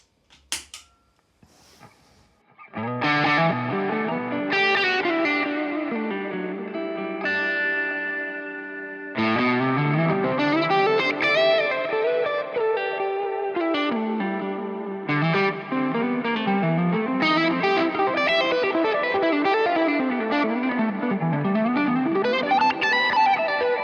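A heavily distorted electric guitar through a Pinnacle distortion pedal plays continuous chords and riffs, loud and saturated, with a brief pause before resuming.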